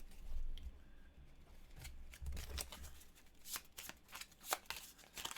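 Playing cards being shuffled close by, a series of quick riffling bursts and soft slaps with short pauses between them.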